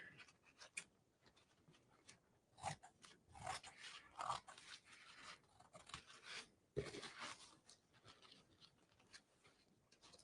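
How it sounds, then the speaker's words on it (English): Scissors snipping through printed paper napkin squares for a Christmas ornament decoupage craft, with a run of quiet, close cuts and crisp snips at an irregular pace. "I'm going to cut 4 of these images that are square."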